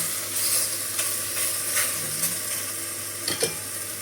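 Shiitake mushrooms fry with garlic and ginger in a pan, a continuous crackling sizzle with a few sharp scrapes and clicks of stirring spread through the clip.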